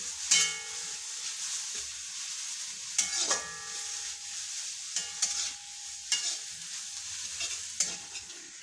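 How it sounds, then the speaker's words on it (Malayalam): Foraged leafy greens cooking down in a pan over a low flame, stirred with repeated scraping clacks of a spoon against the pan over a soft steady sizzle, close and alone. "അപ്പം നമ്മൾ ഏലക്കറി നമ്മളൊന്ന് ഇളക്കി കൊടുക്കാം കേട്ടോ"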